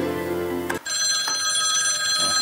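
A telephone rings loudly and close, a bright electronic ring that starts abruptly after a short break and holds steady, with no voices.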